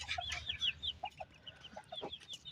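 Chickens cluck and chirp in short bursts while being fed millet on a cold day, a busy flock close by with bright, overlapping calls and no talking.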